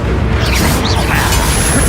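Accio summoning spell cast in the Hogwarts Legacy video game: a muffled magical whoosh and burst rises out of a dense, steady bed of combat noise, with a voice-like murmur running under it.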